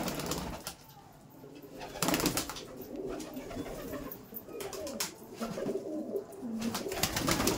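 Laldom pigeons cooing in a loft, soft repeated throaty coos from several birds close by, with some wing and movement noise around them.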